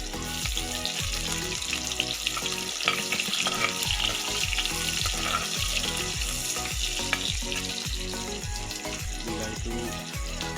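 Onions fry for chicken curry in a pan, a loud, dense, continuous sizzle with rhythmic scraping from stirring throughout.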